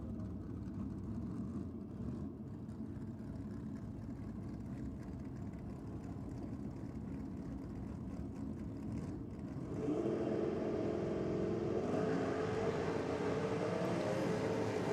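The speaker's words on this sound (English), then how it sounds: "Rex Webster in the rocket lane in that Austin A40 big block Chev" A drag-racing Austin A40 with a big-block Chevrolet V8 runs at Sydney Dragway. A distant engine drone holds for several seconds, then grows louder and fuller around the ten-second mark as the car passes closer, with no voices heard.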